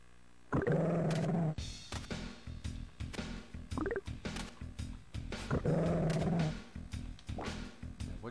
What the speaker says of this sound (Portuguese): O cachorro dá uma cagaço, velho.